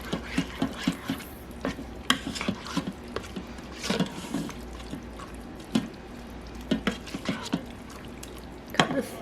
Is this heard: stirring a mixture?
yes